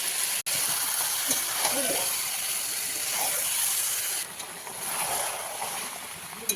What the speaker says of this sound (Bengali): মাংসটা দেখো বন্ধুরা কষাচ্ছি